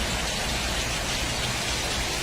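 Steady, loud rain pours down continuously, a dense even hiss with no voices or other sounds over it.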